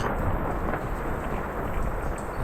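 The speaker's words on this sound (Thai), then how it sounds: "ฝนตกครับก็เลยออกมาถ่ายดู" Light rain with no wind falls steadily as a dense, even hiss at moderate level, with no distinct drops or pauses and no voices.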